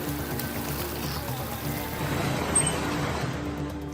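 Swollen Alaknanda river in Rudraprayag, Uttarakhand, flowing high after continuous heavy monsoon rain: a steady, dense rushing and pouring wash of water that continues throughout, with no voices.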